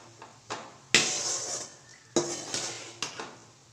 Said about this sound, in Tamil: அப்படியே கிண்டிக்கிட்டே இருங்க